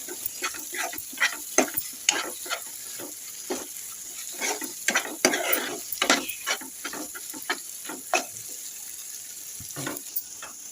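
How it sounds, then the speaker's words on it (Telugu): Spices for a cauliflower curry being stirred and fried in a pan: a spatula scrapes and knocks in a steady, uneven rhythm of sharp clicks and scrapes over a soft, continuous sizzle, close up with no talking. "పచ్చివాసన పోయేంత వరకు తిప్పుకోవాలి మగ్గించుకోవాలి"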